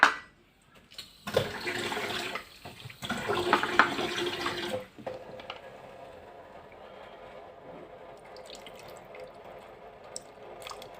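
Water poured into a grinder jar while making a tandoori chicken marinade, a loud splashing gush in two bursts followed by a softer trickling and dripping tail.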